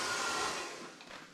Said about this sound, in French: un aspirateur ultra complet grâce à ses nombreux accessoires et surtout ultra performant grâce à cette puissance d'aspiration de 310 RW